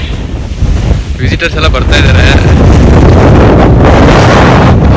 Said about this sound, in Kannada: ಯಾ ಗಾಳಿ ಹೆವಿ ಇದೆ